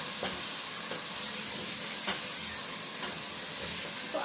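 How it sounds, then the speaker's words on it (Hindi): Spices sautéed in oil with onions already fried red, giving a steady soft sizzle and hiss with a few faint stirring scrapes, fairly quiet, no voices. "अब ये सारे जो मसाले हैं मैं सब इसमें डाल देती हूँ, अब इसको भून लूँगी।"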